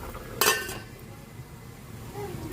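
A metal lid set onto a cooking pot while fish fries and chicken tinola simmers in a home kitchen, a single bright clatter near the start that settles into faint sizzling background.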